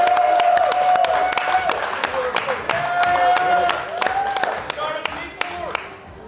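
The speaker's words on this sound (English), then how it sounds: "Let's give this guy a round of applause." Audience applause at a live talk show recorded in Salt Lake City, steady clapping filling the room for several seconds and fading toward the end, with a voice speaking over it.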